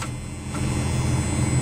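A 1991 Dodge Ram 250 with a Cummins turbodiesel engine starts cold after sitting a while, cranking briefly and then settling into a loud, close, steady low rumble with no one speaking.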